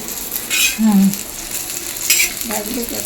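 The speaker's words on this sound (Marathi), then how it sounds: "ह्याच्यात साईडला शेंगदाणे भाजून घेऊया" Peanuts roast in a pan alongside chilies for a spicy thecha, giving a close sizzle with stirring scrapes and light clinks.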